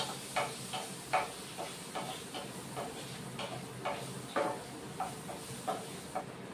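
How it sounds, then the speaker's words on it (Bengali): Potato pieces fry with turmeric in a pan, a steady sizzling hiss broken by regular scraping stirs of the spatula, close and moderately loud with no talk. "দিয়ে আগে আলুটাকে ভেজে নিব"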